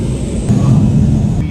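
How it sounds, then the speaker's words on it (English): An airplane passes in the background outdoors, a steady low rumble that holds at an even level for the whole moment with no voices over it. "The plane was in the background."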